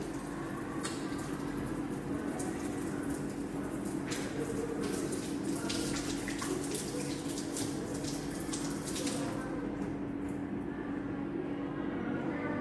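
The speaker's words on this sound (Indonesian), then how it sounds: "Mencuci tangan dengan air dan sabun di air mengalir." Hands being washed with soap under a running tap, a steady continuous rush of water with splashing and faint rubbing, close and even throughout with no speech.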